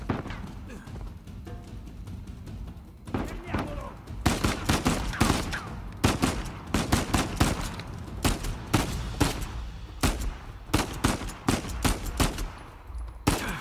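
Sharp gunshots from headshots in the action game Uncharted 4, a string of loud close cracks firing in irregular succession over a rumbling combat background.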